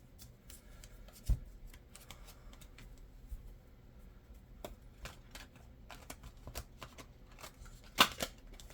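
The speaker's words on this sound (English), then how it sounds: "We're going to pull a couple of oracle cards just to see what comes through." Oracle cards shuffled and drawn from a deck, a soft, quiet run of papery flicks and riffles with a few sharper snaps, close and alone with no talk.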